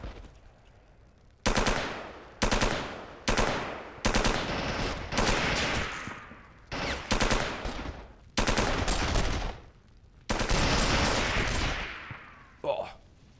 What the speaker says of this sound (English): We're under heavy fire on this side.